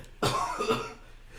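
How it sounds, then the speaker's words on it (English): A single harsh cough indoors in a recording studio, close to the microphone, with a short second burst right after the first and then quiet. "I'm trying to fight off a cough too."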